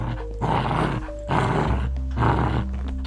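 A dog growls in three deep, rough, rumbling bursts with short pauses between them, close and fairly loud, with no other sounds around.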